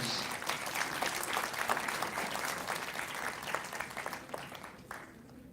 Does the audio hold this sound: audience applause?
yes